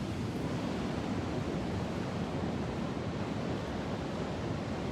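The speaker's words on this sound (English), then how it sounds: "And the waves are ferocious." Ocean waves crash and roar on a beach in strong wind of about 22 mph, a dense, unbroken wash of surf and wind buffeting the microphone, loud and close with no voices.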